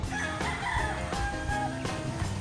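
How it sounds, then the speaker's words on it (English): Chickens clucking and a rooster crowing on a lot in the Philippines, close by and persistent, with repeated short bursts over a busy farmyard background and no talk. "You can hear the chickens"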